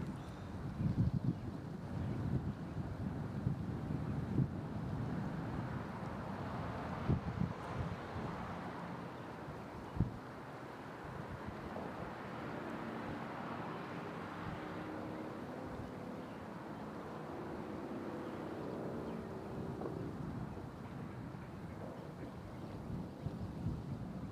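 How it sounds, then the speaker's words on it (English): Wind gusts at Nashville International Airport roar steadily against the microphone, with a deep continuous rumble and occasional louder buffets, no talking. "Looks like the wind has picked up just a little bit."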